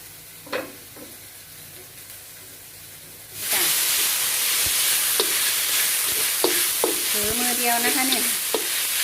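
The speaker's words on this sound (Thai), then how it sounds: "ผัดเห็ดหอมกับหมูบดเข้าด้วย" Shiitake mushrooms and minced pork stir-fried in a hot pan: quiet at first, then a sudden loud, steady sizzle with spatula scrapes and clatters running to the end.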